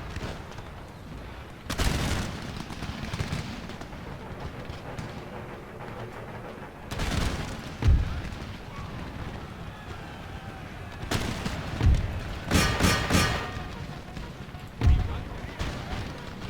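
Musket volleys and artillery booms in an Empire Total War battle, with several loud, spaced blasts and crackling fusillades between them, under background battlefield noise and occasional speech.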